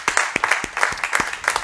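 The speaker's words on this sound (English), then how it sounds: "Clap for the Lord." A church congregation claps for the Lord during worship, a close, loud run of sharp, roughly rhythmic hand claps, several distinct slaps in quick succession.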